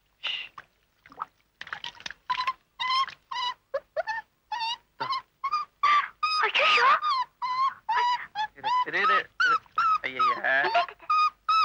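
A dog whimpers and yips in a rapid string of high, nasal cries, short bursts at first and then a denser, louder run of whining yelps, close by with no talk over it.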